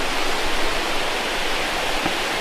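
Steady, loud broadband roar of a giant waterfall in the wild at dusk, continuous and unbroken across the whole stretch, with no voices over it.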